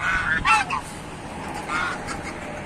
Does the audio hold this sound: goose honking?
yes